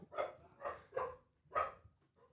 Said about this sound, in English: Listen to these dogs just lose their fucking minds in the hallway.